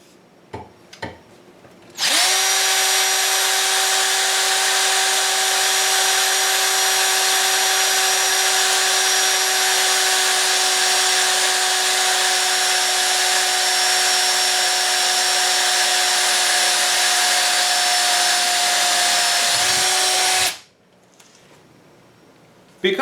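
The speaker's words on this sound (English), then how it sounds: "go ahead, drill into this angle iron" A Chicago Pneumatic 20V cordless drill bores into steel angle iron in one long, steady, loud high-pitched whine lasting nearly twenty seconds, with brief clicks before it starts and a quiet tail after it stops.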